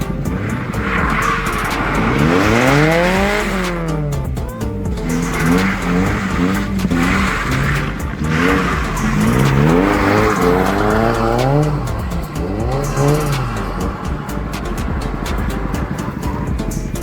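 A Jaguar car drifts and spins on a race track, its tyres squealing in long rising and falling wails over a loud, steady engine drone, close and continuous for the whole stretch.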